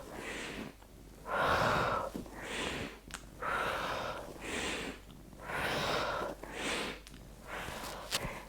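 Slow, deep breaths during a yoga flow, with alternating inhales and exhales repeating in a steady rhythm at close range, each lasting about a second, and no talking over them.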